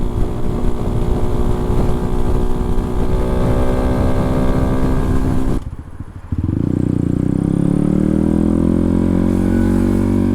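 A 2022 Honda Grom motorcycle runs near full throttle on a road, its engine a loud, steady high-revving drone with wind rush. A brief dip partway through sounds like a gear shift before the engine climbs again.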